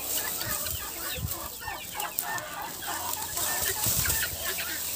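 Brooding hens cluck steadily in a busy, close chorus while being tossed fresh greens, with scattered flutters and scratching amid a constant farmyard din.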